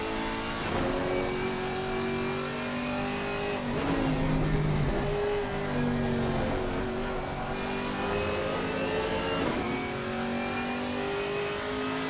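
A 6.2 litre LT1 V8 GT4 race car in a racing video game howls continuously through qualifying laps at Kyalami, rising and falling through several gear changes with brief tire squeal, loud and steady with no talking.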